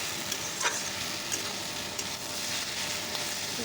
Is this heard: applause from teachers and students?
no